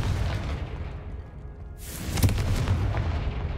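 A single Confringo blast spell erupts in Hogwarts Legacy with a sharp, loud burst and a rolling rumble that lingers after a brief lull.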